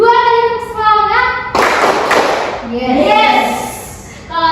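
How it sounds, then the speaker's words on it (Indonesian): In a classroom micro-teaching session, a group of students gives two loud, sharp unison claps for a spirit clap. A voice is heard before and after the claps. "2 kali tepuk semangat."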